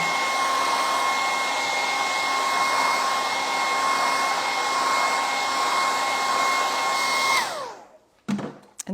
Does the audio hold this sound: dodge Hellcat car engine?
no